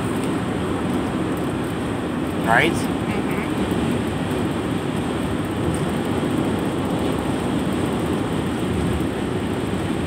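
Heavy, steady rumble of Union Pacific locomotive 5258 and an intermodal freight train rolling past nearby in Layton, Utah, a continuous low roar, with a brief voice and a short rising tone partway through.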